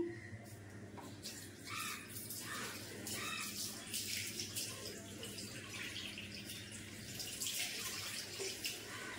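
Tap water runs steadily while raisins are rinsed in a kitchen, a continuous splashing flow with some clatter, heard close and without talk.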